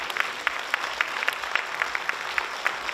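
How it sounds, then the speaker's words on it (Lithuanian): A hall audience at a NABBA Lithuanian/Latvian Open 2020 bodybuilding contest for men newcomers claps in a brief, steady burst of applause, moderately distant with individual claps standing out. "Audringi plojimai salėje."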